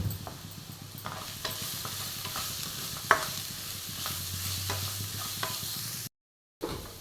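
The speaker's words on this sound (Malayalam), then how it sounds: "ഇനി ഇതൊന്ന് നന്നായി ഒന്ന് ഉള്ളി വരണ്ട് വരുന്നവരെ നമുക്കിതൊന്ന് വഴറ്റിയെടുക്കണം" Onions and green chillies sauté in a pan for chicken mappas, a steady close sizzle with repeated spatula scrapes and taps, one sharp knock midway and a brief silence near the end.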